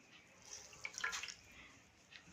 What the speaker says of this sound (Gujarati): એને પાણીમાં પલાળી દઈશું અને સારી રીતે એને નીચોવી દઈશું